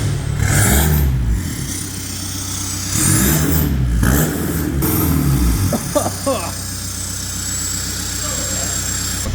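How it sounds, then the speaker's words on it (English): Seat Leon 2.0 TDI diesel with a straight-pipe exhaust, loud and close, idling with a deep rumble and surging in several revs, with people talking over it. "Engine running."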